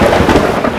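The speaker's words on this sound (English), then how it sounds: "Storm as bad as this since last night." Thunder rolls loud and close through a heavy rainstorm, a dense continuous rumble with hissing rain, no voices.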